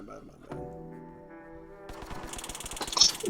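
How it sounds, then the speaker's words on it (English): Gunshots in the Roblox roleplay game BCRP: a humming tonal drone gives way to a rapid burst of sharp shots that grows louder, with voices speaking over it. "Someone pulled a gun on someone and he just got shot."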